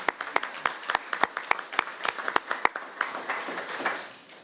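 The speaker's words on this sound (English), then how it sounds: "Please join me in giving him a round of applause." Applause at a city council meeting: a modest round of distinct, sharp claps from a small group, quickly picking up pace and then thinning and fading out after a few seconds.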